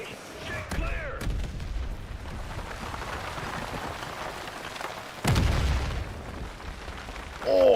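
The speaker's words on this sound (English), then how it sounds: "Incoming artillery." Incoming artillery fire in Battlefield 6, with heavy booms rumbling through a constant wash of battlefield noise and a sharp, loud impact midway.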